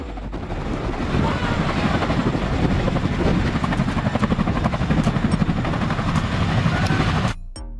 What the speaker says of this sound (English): Cargo helicopters are used to transport goods, equipment, and supplies.